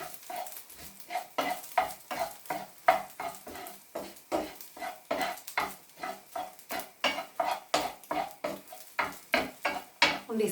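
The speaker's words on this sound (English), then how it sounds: "Put that in there and then just stir it up." Rice being stirred in a pan for egg fried rice, a regular scraping rhythm of spoon against metal over a soft sizzle, about two strokes per second, close and without talk.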